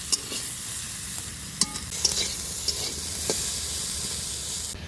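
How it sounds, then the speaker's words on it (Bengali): Vegetables frying in hot oil in a pan for a Bengali village meal, a steady close sizzle and hiss with a few sharp crackles and stirring scrapes, no talk. "চলো ভেজে নিই"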